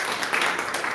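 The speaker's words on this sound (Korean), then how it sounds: "안 계시지만 우리 박수 한번 할까요?" Congregation clapping together during a Korean Sunday church service, a dense steady wash of many hands at moderate loudness, continuous for the brief moment with no pause.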